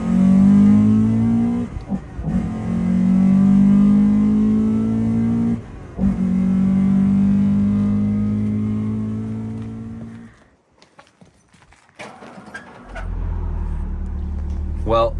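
Modified cars creeping through a narrow walkway in Japan, engines droning low and rising in long revs that cut off abruptly, then a deep idle rumble, with people talking close by throughout.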